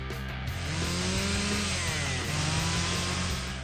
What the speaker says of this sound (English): Oh! A chainsaw!